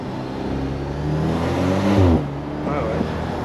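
Inside a Maserati, the engine climbs in pitch under acceleration, then briefly drops at a gear change before pulling again; a voice is heard over the engine noise.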